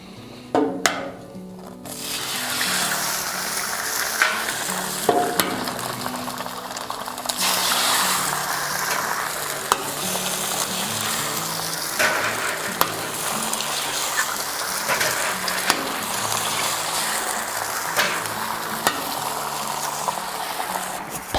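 Eggs fry on a Blackstone griddle beside biscuits, a steady broadband sizzle running close and loud throughout, with a few brief scrapes and clicks near the start.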